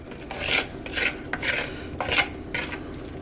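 Chopped vegetable mix is tipped and stirred into a pot of simmering oxtail, a run of raspy scraping and rustling strokes in quick bursts, close and alone.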